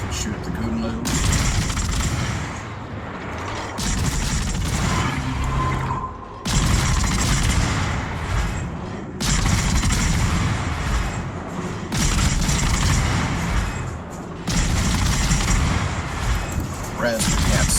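Naval gunfire from the video game World of Warships comes as repeated heavy salvos of booming, rumbling blasts in bursts a few seconds long, separated by short quieter gaps. Someone talks over the game sounds.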